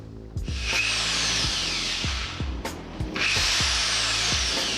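A power drill bores into wood, its motor whine rising and falling as the speed changes, with repeated short bursts and a sustained high buzz heard close and alone.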